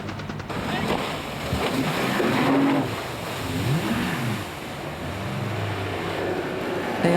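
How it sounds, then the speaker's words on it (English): Military patrol boats race at high speed through a harbor, a loud engine drone with shifting pitch mixed with rushing water and wind buffeting, while a voice talks over it. "They also practice maneuvering their boats at high speed in harbor situations"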